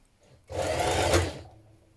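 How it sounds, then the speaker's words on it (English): A sewing machine stitches a garment's shoulder seam with a 1 centimetre seam allowance, running in one steady, close burst of about a second before stopping. "at the shoulder seam here, we're going to stitch it together with a 1 centimetre seam allowance"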